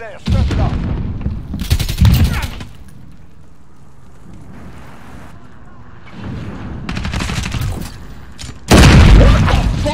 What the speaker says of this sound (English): my claymore just got one like down below